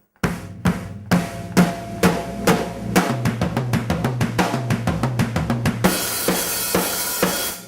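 A drum build-up from a song is played at slowed tempo: separate heavy hits quicken into a dense fill and finish in a sustained cymbal crash, loud and alone.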